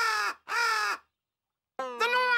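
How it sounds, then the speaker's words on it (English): A cartoon crow caws loudly in two harsh, drawn-out calls, then after a short silence lets out another longer, strained squawk, all heard alone with no talking. "And just who are you? A crow."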